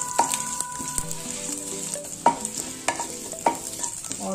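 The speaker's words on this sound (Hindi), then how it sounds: "1 टीस्पून साबुत जीरा ये पहले थोड़ा तेल में इसको हिला लेना है" A teaspoon of whole cumin seeds sizzles in hot oil in a pan while being stirred, steady crackling fry with sharp clinks of a spoon against the pan at intervals, no voices.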